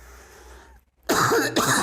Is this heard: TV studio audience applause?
no